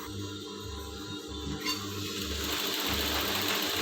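A sewing machine runs in steady bursts of stitching at close range while the lower thread tension is adjusted and tested, with a mechanical whir and rhythmic clatter and no talking.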